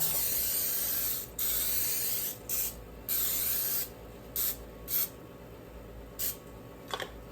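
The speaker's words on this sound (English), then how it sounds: "I'm going to spray the dish with Pam, regular Pam." A long hiss of Pam aerosol cooking spray onto a baking dish, then several short spurts, close and steady over a low background hum.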